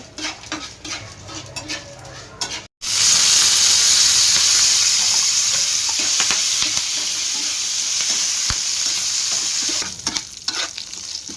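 Curd poha with cashews frying in a pan, a loud continuous sizzle breaks in after a brief pause and holds steady. Occasional stirring scrapes sit under the hiss, and there is no talking.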